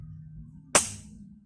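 A single sharp shot from a homemade PCP airgun built by hand, one loud close crack with a brief bright tail fading within half a second over low background hum.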